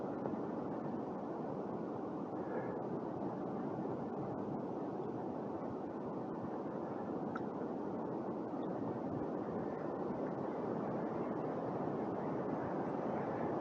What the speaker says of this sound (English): Well, it's certainly windy today.